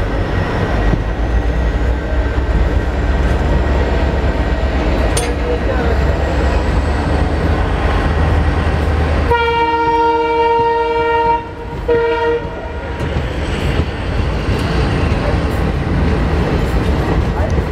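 Nandigram Express running along the track between Adilabad and Mumbai, with a steady loud rumble and clatter heard from onboard and a long horn sounding near the middle.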